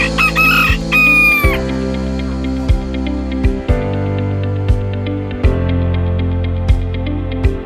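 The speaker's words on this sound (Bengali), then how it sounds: "আমি জাস্ট একটা ট্রেডিশনাল মুরগির খোয়ারের সামনে দাঁড়িয়ে আছি।" Chickens at a traditional chicken coop, a rooster crowing loudly and close at the start, then repeated clucks and short calls from the flock over a steady background.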